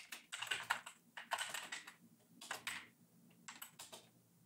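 Bursts of fast typing on a computer keyboard, close and crisp, with short pauses between clusters of keystrokes and no talking.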